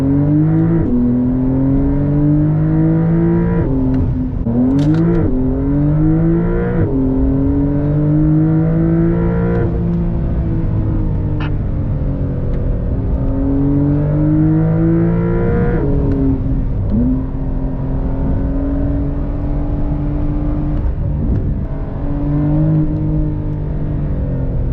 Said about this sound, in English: put the POV cam on so you can experience driving the 2020 Carrera 4S